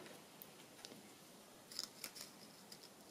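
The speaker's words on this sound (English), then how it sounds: "Oh, I've got all these bits on my scissors. Okay, so I'm just going to trim this down." Scissors trim paper packaging and junk mail, making a few quiet, crisp snips close by that cluster near the middle and end against a hushed room, with no talking.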